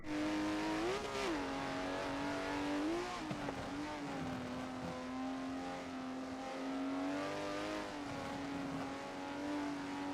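Race cars in Forza 7 roar past in a steady, loud engine drone, the pitch rising and dipping through gear changes and corners, with tire noise underneath and no talking.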